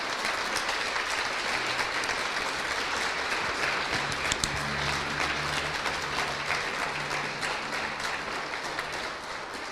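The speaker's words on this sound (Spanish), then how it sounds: "Podemos darle un aplauso a nuestro Dios" A church congregation claps loudly and steadily in dense, sustained applause, with a low hum of voices and instruments running underneath throughout.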